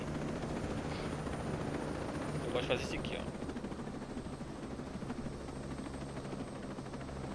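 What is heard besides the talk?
helicopter in Ghost Recon Breakpoint video game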